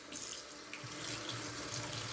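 Tap water running into a sink for rinsing after a straight razor shave, a soft steady splashing stream heard up close but at low volume, brief and unbroken.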